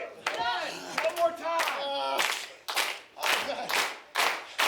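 A wrestling crowd at a Dojo Pro show claps in loud rhythmic bursts, with short cheers between the beats and a commentator talking over them.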